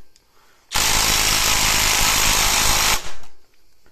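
Power tool, likely an impact wrench, loosening a bolt on a BMW 320i being prepared for a turbo build: a loud, close, continuous high-pitched whirring burst of about two seconds that ends with a short rattle.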